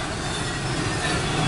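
A southbound Norfolk Southern intermodal freight train rolls past close by, a steady loud rumble of wheels and cars with a faint wheel squeal riding over it, no voices.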